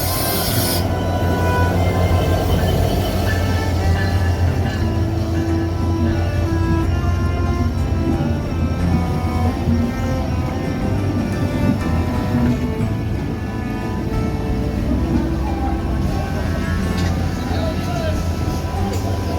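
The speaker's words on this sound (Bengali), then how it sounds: "716 down কপুতাক্ষ express Azimnagar railway station 1 নম্বর লাইনে এই মুহূর্তে প্রবেশ করছে" The 716 Down Kopotakkho Express pulls into line 1 at Azimnagar railway station, a loud, steady rumble with humming tones running the whole way through, and voices murmuring underneath.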